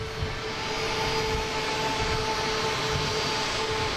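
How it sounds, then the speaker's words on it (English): JetBlue jet airliner arriving at Boston Logan International Airport, a loud, steady engine roar with a broad rushing hiss and a sustained whine, close by and continuous throughout. "JetBlue coming in the alley here."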